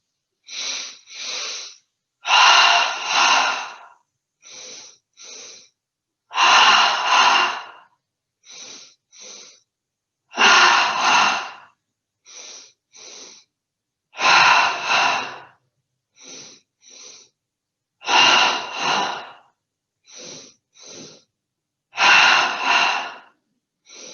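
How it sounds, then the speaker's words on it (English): Rhythmic double breaths drawn into the belly during seated yoga, each a quick pair of sharp, close nasal sniffs followed by a longer forceful exhale, repeating steadily with short silent gaps and no speech. "take our final round of 10 double breaths in the belly"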